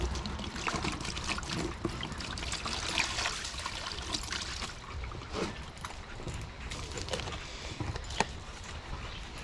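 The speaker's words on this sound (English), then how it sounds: "after I've rinsed the bowl down, giving it a good swirl" Water trickles and swirls as a dog's water bowl is rinsed out, a continuous close splashing and dribbling with small louder splashes.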